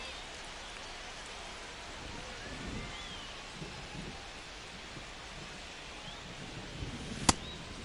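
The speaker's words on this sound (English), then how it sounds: "Ooh, it's raining." Steady rain pours over a ballpark in the baseball game MLB The Show 25, a constant soft hiss of drops with faint low rumbles and one sharp, brief crack near the end.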